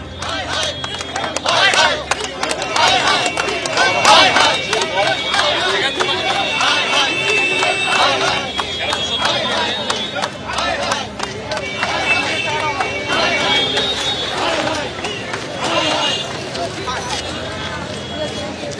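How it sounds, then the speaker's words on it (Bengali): Poll workers in Baharampur protest at the DCRC gate over unpaid election duty, a loud, close crowd shouting and chanting slogans in bursts with clapping, voices overlapping throughout. "ডিসিআরসির গেট আটকে চলে বিক্ষোভ, স্লোগান"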